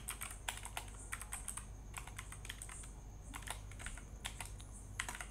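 Rapid, steady typing on a computer keyboard while entering a string of digits, with bursts of close keystrokes and short pauses between them over a quiet background.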